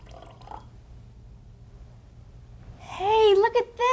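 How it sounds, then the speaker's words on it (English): Water is poured from one glass into another holding isopropyl alcohol, giving a short close trickle and splash near the end after a quiet stretch with faint background speech. "I poured the water into the isopropyl alcohol"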